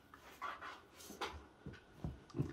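Small dog panting in quick soft breaths mixed with faint whimpers, close by and quiet, in uneven bursts.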